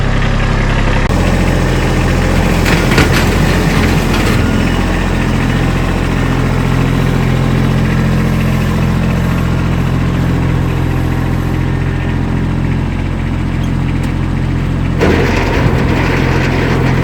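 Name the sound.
Kubota B2301 tractor engine idling with snowblower attached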